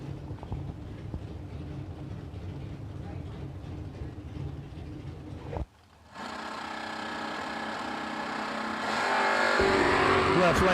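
Drag race cars launch at a dragstrip, one a Mustang, with a muffled engine rumble under an announcer's talk, a brief drop, then a loud, rising roar of engines accelerating and revving hard.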